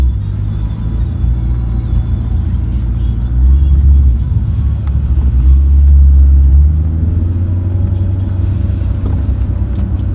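Maserati GranTurismo S engine heard from inside the cabin as a muted, low rumble that swells briefly as the car accelerates, with faint talk in the background.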